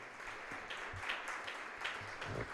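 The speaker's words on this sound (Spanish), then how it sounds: "les damos un aplauso" Congregation at a Sunday morning church service claps in steady, moderately faint applause, a continuous scattered patter with no speech over it.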